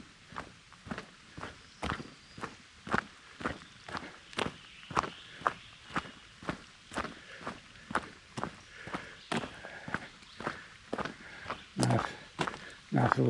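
Footsteps crunch along a hiking trail toward a cave, an even walking rhythm of distinct close steps on dirt and gravel, continuing steadily with no talking.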